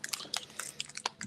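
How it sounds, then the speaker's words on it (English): Someone bites into and chews a crunchy caramel biscuit with milk chocolate outdoors at a cricket ground, giving a series of short, sharp crunches close to the microphone with no talking. "crunchy caramel biscuit"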